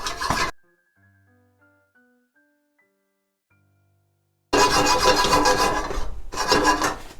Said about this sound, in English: And we're also going to add a few grinds of pepper.